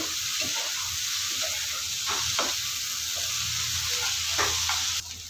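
Snake gourd slices fry in a pan with a continuous close sizzle, punctuated by a few spatula scrapes, and the sizzle drops slightly at the end.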